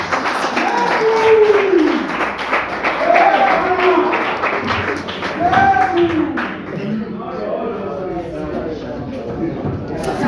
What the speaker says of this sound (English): Can you clap hands for him?